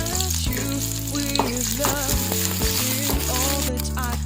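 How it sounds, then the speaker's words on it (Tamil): Pirandai (adamant creeper) frying in sesame oil in a pan, a steady close sizzle running the whole time, with musical tones playing over it. "இது நல்லா மொறுமொறுன்னு வர அளவுக்கு நல்லா ஃப்ரை பண்ணிகிட்டே இருக்கணுங்க"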